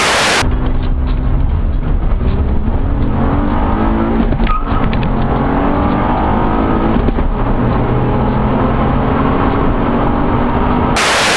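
A 2007 Honda Accord V6 with a six-speed manual drives along with a steady, loud engine drone and road noise that shifts pitch through the gears, heard from close by with no talking.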